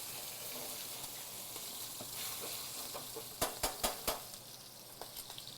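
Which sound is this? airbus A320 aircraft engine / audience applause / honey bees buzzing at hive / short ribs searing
short ribs searing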